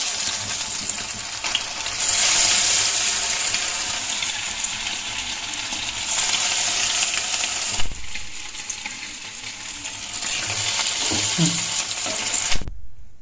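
Bread pakora balls fry in hot oil in a home kitchen with a loud, continuous sizzle and crackle. The hiss surges as new pieces drop in, and a few soft clinks and a brief pause break the bubbling.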